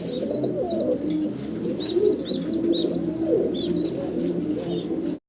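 Caged pigeons on a pigeon farm coo softly and repeatedly close by, their low throaty calls overlapping in a gentle, continuous rhythm.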